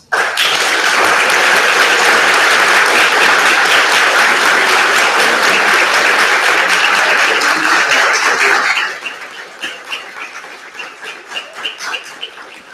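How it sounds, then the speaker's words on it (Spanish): A large audience at a university lecture series bursts into loud, sustained applause that holds strongly for about nine seconds, then thins to scattered individual claps that fade out. "lo menos que le podemos dar a don Carlos Guillermo es un gran aplauso por tantos años de esfuerzo y dedicación en este proyecto."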